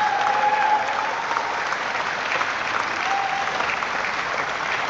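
An audience claps in sustained, dense applause, a steady even wash of many hands at close range with no pauses throughout.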